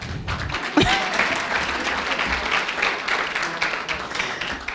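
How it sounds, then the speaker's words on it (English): Audience applause at a school board meeting for a high school clarinetist from the all-state concert band, steady clapping from a sizable room with a sharp thump near the start and scattered taps throughout. "Everybody clap."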